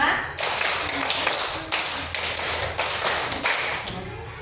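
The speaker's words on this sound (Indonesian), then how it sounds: "Sekarang kalau tepuk 5 supaya ada nadanya, prok prok prok prok." A school class claps a rhythmic five-clap pattern together, sharp unison bursts of hand claps repeating in groups, loud and close, with some voices in the background.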